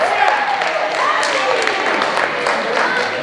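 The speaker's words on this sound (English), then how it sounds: "Give yourself a big round of applause." An audience at a coaching workshop applauds in a thick, continuous wash of clapping, with voices and talk running underneath.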